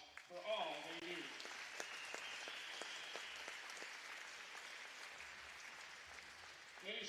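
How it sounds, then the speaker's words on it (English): A gym crowd at a girls varsity high school basketball game claps steadily for the officials, a soft, even patter of applause that swells briefly near the end, with a voice heard at the start. "Please join us in giving these officials a round of applause for all they do"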